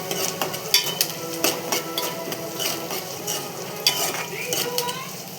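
Food fries loudly in a pan while a utensil scrapes and clacks against it in an uneven rhythm, close up and with no voices.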